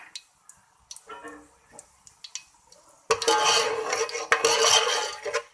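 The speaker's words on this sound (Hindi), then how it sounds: "अब इसके अंदर सबसे पहले डालेंगे साबुत गरम मसाला।" Whole garam masala spices dropped into a pan of hot oil, a sudden loud, dense crackling sizzle bursting in after light kitchen clinks and taps, continuing steadily close up.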